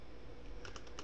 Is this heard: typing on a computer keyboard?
yes